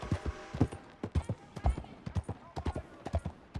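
Horse hooves clip-clop at a steady walking rhythm in Red Dead Redemption 2, close and distinct, with someone talking over the footfalls.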